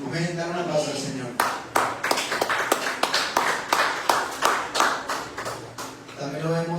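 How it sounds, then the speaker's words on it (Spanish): A church congregation claps for the Lord during an evangelical sermon, a steady run of sharp, fairly even claps lasting several seconds, with a preacher's voice just before and after. "Dar un aplauso al Señor."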